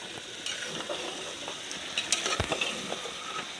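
Meat frying in a pan with spices including red chilli and Chinese masala, giving a steady close sizzle with occasional stirring scrapes and clinks, no voices.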